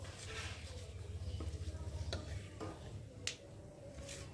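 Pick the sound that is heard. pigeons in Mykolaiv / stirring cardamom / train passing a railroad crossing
stirring cardamom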